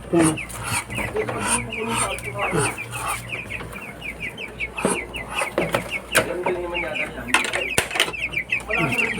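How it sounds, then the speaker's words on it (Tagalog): Chicks being fed, with a dense chorus of rapid high peeping and cheeping close by, mixed with soft clucks and brief rustling, while people talk intermittently. "Pakainin naman natin mga sisiw."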